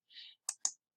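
A computer mouse clicks twice in quick succession, crisp and close. A soft brief rustle comes just before, in near silence.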